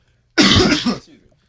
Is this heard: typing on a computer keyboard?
no